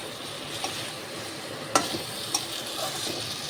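Potatoes go into a hot pot over a raised gas flame for a biryani-style curry, with a steady soft sizzle of frying and a few faint spoon clinks from stirring, no voices.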